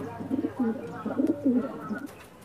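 Pigeons cooing inside a loft of high-flying Giribaj and Madrasi breeding pairs, soft repeated throaty coos rising and falling at close range over a low steady hum.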